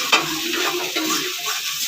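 Fish curry with cumin powder being stirred in a pan, the spoon scraping and pushing through the mixture over a steady close sizzle.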